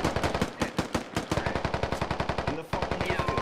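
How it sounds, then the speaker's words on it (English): Gunshots in the tactical shooter Squad: a rapid, steady stream of sharp automatic fire with evenly spaced cracks, close and loud, broken by a brief pause before the firing resumes. "He gets shot from behind."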